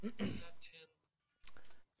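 A person coughs and clears their throat up close, a rough burst followed by a short pause and another cough.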